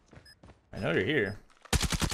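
A single sharp gunshot in a video game bursts out loudly near the end, after a stretch of quiet talk and a sustained voice.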